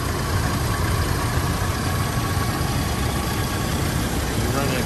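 A 1985 Oldsmobile Cutlass Supreme engine idles steadily with freshly installed drive belts, giving a continuous close rumble and hum that stays even throughout with no flapping or slapping heard.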